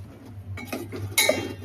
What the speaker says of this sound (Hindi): उसके बाद मैं डाल लूँगा ये प्याज लहसुन और मिर्ची का जो मैंने पेस्ट बनाया था।